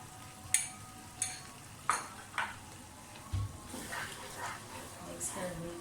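Carrot halwa with khoya gets stirred in a pan, with a few distinct scraping clinks of the spoon against the metal early on, then softer shuffling stirs, quiet and close.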